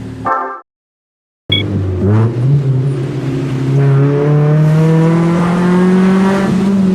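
A Mitsubishi Mirage Cyborg ZR engine revs loudly and steadily, its pitch climbing through high RPM after a brief silent gap, the strong tone rising and holding with no voices present.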